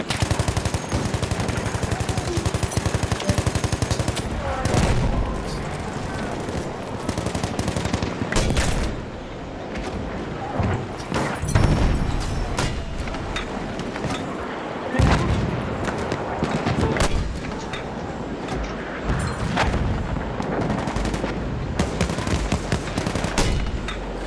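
Battlefield 1 combat erupts with repeated machine gun bursts and heavier booming blasts, loud and close, the firing coming in uneven clusters amid continuous battlefield noise throughout.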